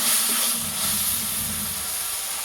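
Water poured into a hot pan of simmering potatoes, plantain and mixed vegetables sizzles into a loud, steady steam hiss that holds for a couple of seconds with a low bubbling underneath.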